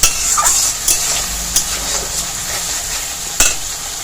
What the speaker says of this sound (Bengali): মশলা থেকে তেল ছাড়া অবধি একটু ভালো করে কষিয়ে নিতে হবে এভাবে করে।